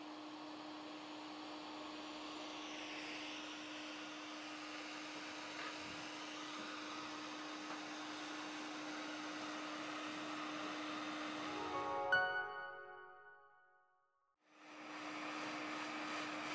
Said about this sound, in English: I'm using a GBC air station at 380 Celsius degrees and